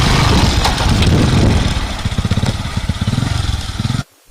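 An Okada motorcycle taxi engine in Ado Ekiti, Nigeria, runs close by with a loud, throbbing putter that settles into a rapid pulsing idle before cutting off abruptly.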